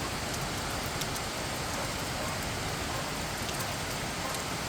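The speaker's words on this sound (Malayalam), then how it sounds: "നിങ്ങൾക്ക് ഈ മഴയുടെ ശബ്ദം കേൾക്കാൻ പറ്റും" Heavy rain pours down steadily over a flat in Kochi, making a dense, unbroken hiss of drops striking surfaces nearby, loud and continuous throughout with no voices.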